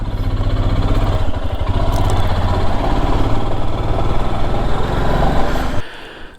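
A motorcycle engine runs loud and close with a steady throbbing drone on a mountain road ride toward Kaza in Spiti, then cuts off abruptly near the end.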